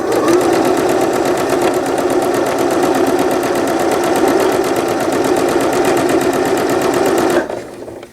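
A sewing machine runs steadily, stitching fabric for a newborn gown, its rapid needle rhythm loud and continuous for about seven seconds before stopping abruptly.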